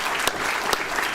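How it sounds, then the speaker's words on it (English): Audience applause at a physics and engineering festival, a short burst of dense crowd clapping with a couple of sharper peaks, fairly loud and close, with no talk over it. "let's give them a big round of applause"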